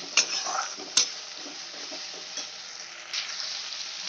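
Spice paste sautéing in a pan, a moderate sizzle broken by a few sharp utensil clinks and stirring scrapes, close by with no voices.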